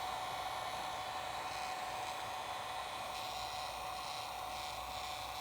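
A heat gun blows in a steady, faint whooshing hiss while warming rubber adhesive grip wrap on a Kel-Tec SUB-2000 pistol grip, continuous with no voices.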